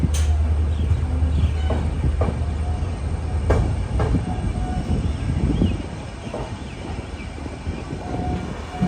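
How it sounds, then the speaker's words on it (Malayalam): A Jan Shatabdi express passenger train departing Agartala station rolls along with a steady low rumble and rattling wheels, occasional clanks and squeals, fairly close and continuous. "കറക്റ്റ് ആറ് മണിക്ക് തന്നെ ജനശതാബ്ദി എക്സ്പ്രസ് എടുത്തിരിക്കുകയാണ്"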